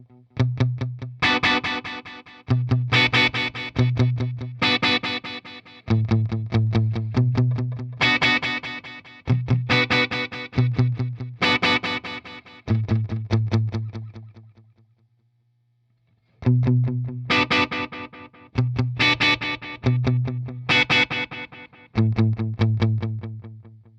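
An effected instrument runs through a Lexicon PCM41 digital delay processor, with loud repeated chopped notes and feedback echoes in rhythmic bursts, a brief near-silent gap midway, then the pattern resumes.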